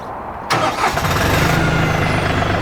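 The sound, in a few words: LS MT235 tractor engine starting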